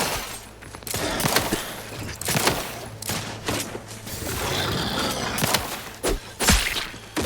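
Gunfire in The Outer Worlds 2 rings out as a run of sharp shots in uneven bursts, mixed with thumps and whooshing game effects over a steady low hum.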